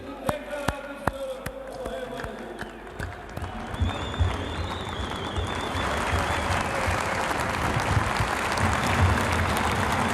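Crowd applause at a Turkish provincial party congress: a few sharp isolated claps at first, then a dense, sustained ovation building and holding loud to the end.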